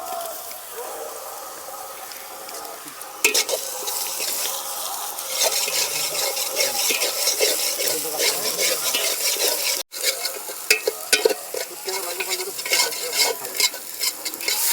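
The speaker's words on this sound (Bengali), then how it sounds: "এরপরে রসুনটা দিয়ে নিচ্ছি" Garlic fries in a pan of chicken feet and skin, giving a loud, continuous sizzle broken by repeated scraping stirs and a brief pause partway through.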